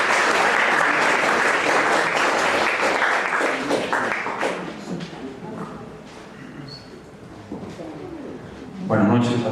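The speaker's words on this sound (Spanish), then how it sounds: "un fuerte aplauso para él" Audience applause at a doctoral student colloquium on Peruvian and Latin American literature, a loud sustained burst of dense clapping that gradually thins and fades, with a brief swell again near the end.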